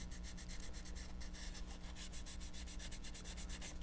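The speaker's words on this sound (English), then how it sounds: "So I'm just going to sand down." Close, steady rhythmic rubbing of sandpaper over putty on a small scale model, a quick back-and-forth scratching repeated evenly with no pauses.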